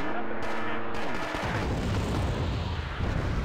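Weapons fire at an enemy vehicle in the PC strategy game Wargame: Airland Battle, a dense wash of booming gunfire and explosions that continues through the whole stretch, loud and close, with a faint tonal hum early on.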